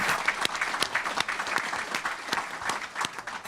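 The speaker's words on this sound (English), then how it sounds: "So I think we should just do one more big round of applause for these" A room full of people at a school district board meeting breaks into a steady round of applause, dense clapping that holds even from start to finish without talk.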